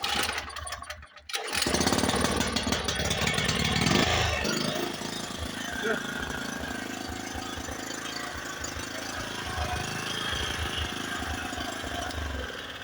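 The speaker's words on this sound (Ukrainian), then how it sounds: "Генератор запускається быстренько." A petrol generator being started after sitting idle: a brief clatter as it catches, then a steady close mechanical running rumble with rapid knocking pulses, loud and without voices.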